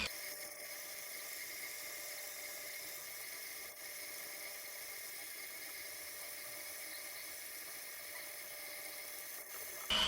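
A battery-powered Femobook A2 coffee grinder grinds light roast beans in a faint, steady whir that runs evenly throughout, with a brief click near the end.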